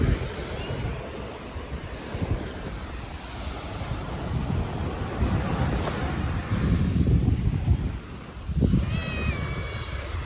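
Early-morning ocean surf rolls in continuously as a broad wash of breaking waves, with wind buffeting the microphone and a brief sharper splash near the end.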